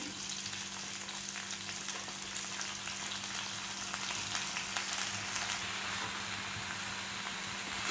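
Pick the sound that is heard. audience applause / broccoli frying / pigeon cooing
broccoli frying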